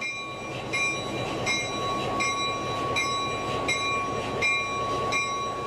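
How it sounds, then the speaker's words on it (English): A locomotive rolls slowly toward a caboose to couple on, with a steady low rail rumble, rhythmic wheel clicks and a continuous high metallic squeal or ring above it. "As the locomotive approaches the caboose, he checks that the couple is open to tie on."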